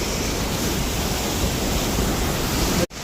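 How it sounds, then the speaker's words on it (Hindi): Floodwater from a cloudburst flash flood in Manali, Himachal Pradesh, rushes past as a continuous, loud, broadband roar, with no talking, and briefly cuts out near the end. "तो गाइस पानी बहुत ज़्यादा आ रहा है, ये वाला भी।"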